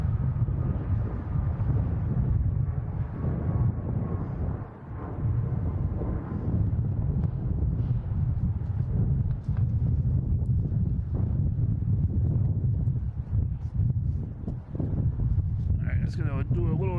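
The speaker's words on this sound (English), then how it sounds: "My computer is flapping in the wind here." Strong wind buffets the microphone outdoors at Boston Logan International Airport, a steady roaring rush that persists throughout, with a laptop flapping in the gusts and a voice talking over it.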